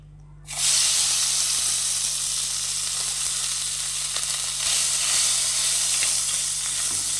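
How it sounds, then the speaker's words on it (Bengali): Tangra fish frying in hot oil, a loud steady sizzle that starts abruptly after a brief quiet moment and continues without a break, close and alone with a low hum underneath. "এখন মাছগুলোকে ভেজে নেব"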